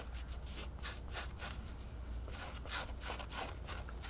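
Scrubbing residue off a forged engine block gives a rhythmic back-and-forth rubbing scrape, close and quiet, repeating about twice a second under faint background noise.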